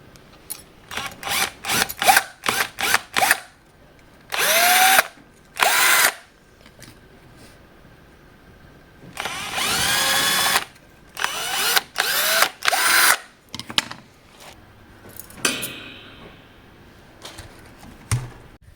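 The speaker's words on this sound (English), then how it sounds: "I'm just going to drill 2 holes in there" An electric drill whirs in several short and longer bursts while drilling two holes, revving up and stopping repeatedly, close by, with small handling clicks between runs.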